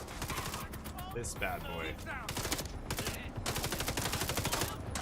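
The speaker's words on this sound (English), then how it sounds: "that one actually has recoil, the submachine gun" Rapid submachine gun bursts in a first-person shooter match, dense repeated automatic fire running nearly continuously and loud, with someone talking over the shots.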